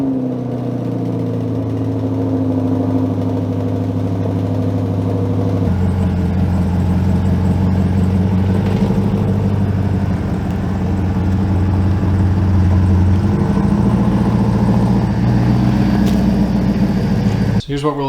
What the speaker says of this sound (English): So you're going to get a 28 degrees cold start right here.